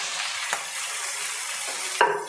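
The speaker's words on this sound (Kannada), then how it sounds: "ಎಲ್ಲ ಫ್ರೈ ಮಾಡ್ಕೊಳ್ತೀನಿ." A ground spice paste of poppy seeds, ginger, garlic, cinnamon and clove fries in a pan, a steady close sizzling hiss with a brief stirring scrape near the end.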